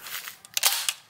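A toy space gun fires a quick burst of sharp clicks and snapping pops, several crisp bursts packed close together within about a second.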